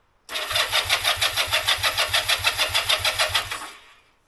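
A Honda CM200T motorcycle engine cranks over on the starter in a fast, even rhythm of about fifteen loud pulses. The cranking carries on for roughly three seconds and then stops without the engine catching.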